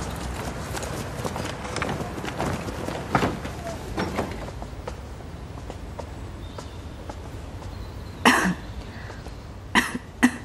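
An empress coughs in an ancient Chinese palace scene: a few short, sharp coughs near the end, standing out over quiet background noise after a stretch of faint movement sounds.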